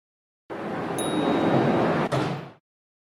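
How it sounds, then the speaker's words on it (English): A CNC lathe door in a VR simulation slides open in one continuous broadband rumble lasting about two seconds, with a brief metallic ring at the start and a small click near the end, then silence. "Open the door of the CNC lathe by pointing and clicking the handle."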